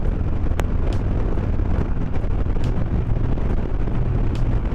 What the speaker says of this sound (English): I think we're at about a 15-mile-an-hour wind today.